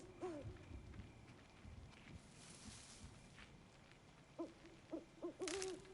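An owl hoots in the wild in the video game Horizon Zero Dawn: The Frozen Wilds, a few soft, moderately distant calls near the end over quiet game ambience.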